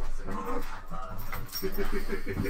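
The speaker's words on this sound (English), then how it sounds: "There's dogs fighting outside." Dogs fighting outside, a mix of whimpers, yips and barking heard from a distance, with people talking over it indoors.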